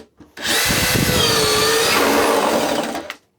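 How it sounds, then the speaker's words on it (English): A Milwaukee M12 compact drill bores through a 2x6 wooden wall stud at low speed, the motor whine and grinding bite rising sharply, holding steady for about two and a half seconds, then cutting off abruptly. It is loud and close. "can send this drill through the wall very easily in speed 1"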